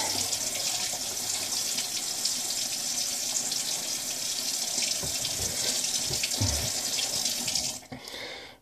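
Cold water runs steadily from a bathroom tap into a sink before a straight razor shave, a close, continuous hiss that abruptly cuts off near the end as the tap is shut.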